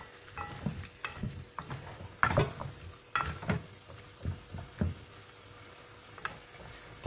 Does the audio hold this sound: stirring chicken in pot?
yes